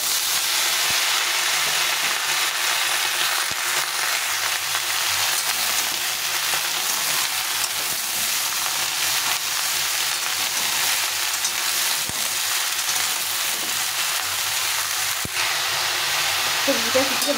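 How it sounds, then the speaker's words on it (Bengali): Mixed vegetables tipped into a pan after fried potatoes give off a loud, continuous sizzle with a bright, even hiss that stays steady throughout, with a few small knocks. "এখন আমি এই সবজিগুলো একবারে সব দিয়ে দেবো, সবগুলো সবজি একভাবে ঢেলে দেবো।"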